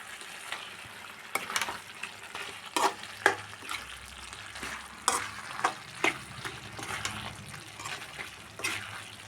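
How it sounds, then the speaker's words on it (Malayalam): A spoon stirs a pot of curry mixed with roasted ground coconut over a low sizzle, with repeated scraping and clacking knocks against the pan at irregular intervals throughout. "നന്നായിട്ട് മിക്സാക്കി കൊടുക്കാം."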